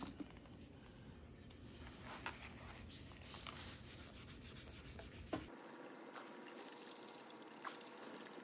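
Close, steady scrubbing and rubbing on an engraved tumbler to strip powder coating down to bare metal, a continuous abrasive rasp that shifts character partway through.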